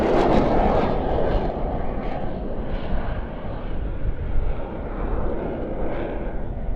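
An M346 jet trainer flies an airshow display, producing a steady, broad jet roar that fills the whole stretch. The noise swells slightly at the start and stays loud throughout.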